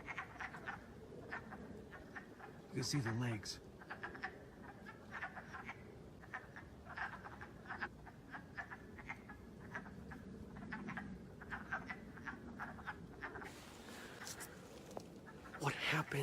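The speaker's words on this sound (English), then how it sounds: "This is a wood frog right there." Wood frogs croaking in a breeding pond, a repeated clucking chorus that is faint and steady across the scene while someone talks nearby.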